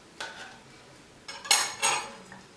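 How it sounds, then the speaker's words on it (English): Knife jabbing and scraping at hard, caked cocoa powder inside a container, a few sharp metallic scrapes and clinks, the last two louder and closer together, with no talking. "If your cocoa powder is as tough as mine is, you may need a knife to loosen it"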